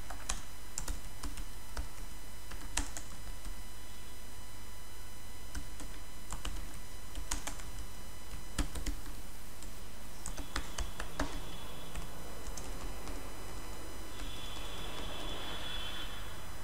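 Steady typing on a computer keyboard while a signature is entered in Gmail: continuous close key clatter with irregular rhythm, fairly loud and alone, with no talk.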